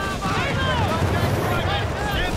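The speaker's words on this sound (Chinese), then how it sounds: "轰炸来了，轰炸来了！" Bombing in a strategy video game: a dense, continuous roar of explosions and rumble with thin falling whistles streaking over it, loud and steady throughout.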